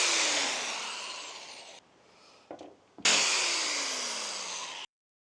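A 5mm drill bores into a motorcycle handlebar on a CRF300 Rally, giving a loud continuous whir and grind that fades slightly, pauses briefly with a few small knocks, then resumes strongly before cutting off. There is no talking.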